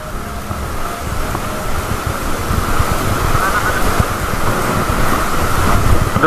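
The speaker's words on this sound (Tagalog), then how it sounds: "malakas yung hangin" Steady, roaring strong wind buffets the microphone continuously at a seaside fishing spot, a broad rushing sound like surf, loud and unbroken throughout.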